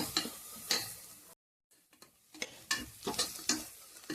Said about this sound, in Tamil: நல்லா வந்து பொன்னிறமாக வதங்கணும் இன்னும் கொஞ்சம் வதங்கணும்